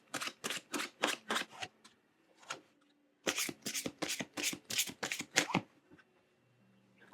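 Oracle cards are shuffled for a tarot reading in two quick bursts of crisp, riffling flutters close by, separated by a short pause, with no talking.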